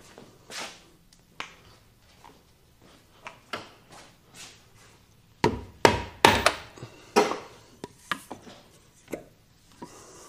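A rubber mallet knocks on transmission parts of a second-generation GR86/BRZ during removal, giving a series of sharp, close strikes, sparse at first and then a quick burst of heavier blows midway, with quieter taps trailing off.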